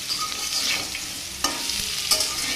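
Elephant foot yam seasoned with salt and turmeric frying in a pan, a continuous soft sizzle with a couple of brief utensil scrapes as it is stirred and mixed, no speech.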